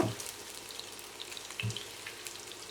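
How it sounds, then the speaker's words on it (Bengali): Chopped onions fry faintly in a pan while being stirred for birista. The sound is a soft, thin sizzle with light patters and a couple of low clunks from the stirring. "এখন আমি এটাকে ভালোভাবে নেড়ে পেঁয়াজ বেরেস্তা করে নিব"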